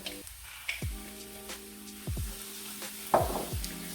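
Crimini mushrooms dropped into a pan of browned onions and garlic, a soft low sizzle with several dull thumps as the pieces land, quiet and close.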